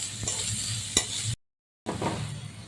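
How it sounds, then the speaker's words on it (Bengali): Chopped ginger, garlic and onion stir-fry in hot oil in a wok, a close crackling sizzle with a couple of sharp utensil knocks, broken by a brief silent gap before the frying resumes. "কড়াইতে তেল গরম করে আদা কুচিয়ে নিয়েছিলাম আদা কুচো রসুন কুচো আর পেঁয়াজ সব একসঙ্গে হালকা হাতে নেড়ে নিন"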